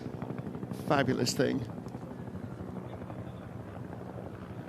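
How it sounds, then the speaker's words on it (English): A two-rotor Huey helicopter passes with a steady thudding rotor chop, loud and continuous throughout, at a WEC 6 Hours of Fuji race, while someone briefly speaks over it. "That is a proper 2-rotor Huey as well."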